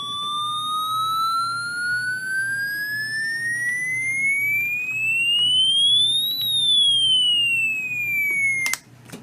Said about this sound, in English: the default volume setting of the siren is not that loud anyway.